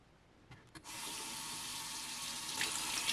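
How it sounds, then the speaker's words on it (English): Tap water running steadily into a sink as freshly laser-engraved pieces are washed with soap and water, a few brief knocks first, then a loud, continuous broadband rush close by. "The engravings can be easily cleaned with soap and water."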